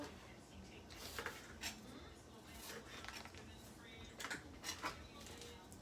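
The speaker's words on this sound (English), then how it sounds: "Slicing the butter into tiny pieces." A knife cuts butter into tiny pieces for fresh apple cinnamon scones, giving soft repeated taps and clinks against a board or dish, faint and close, with a few louder strikes.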